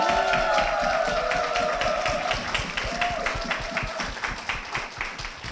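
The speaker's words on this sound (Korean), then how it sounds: "교회와 담임 목사님을 위해서 힘찬 박수 부탁드리겠습니다" Vigorous applause for a church and its senior pastor at Gunnam Church fills the space with dense, sustained clapping from a congregation, while a sustained tone rides beneath it before fading.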